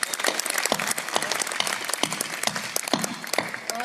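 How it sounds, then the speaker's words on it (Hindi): An audience at a Mahashivratri fair poetry gathering in Matangeshwar claps steadily, a dense, continuous patter of many hands at moderate loudness with a few louder individual claps standing out. "एक बार मुझे तालियां बजा करके अनुमति दे दीजिए।"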